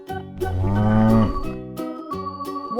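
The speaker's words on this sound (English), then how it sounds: "This is cow." A cartoon cow gives a long, loud, close moo, followed by jingly musical notes with no talking.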